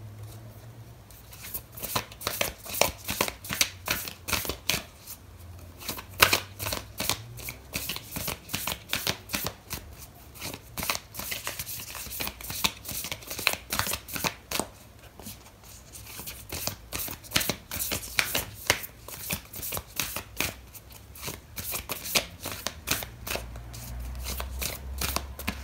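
Oracle cards shuffle by hand for a tarot reading, with repeated quick riffling bursts and soft card slaps in an uneven, ongoing rhythm, close and fairly quiet with no speech.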